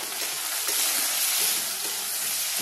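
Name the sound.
onions and chopped tomato frying in oil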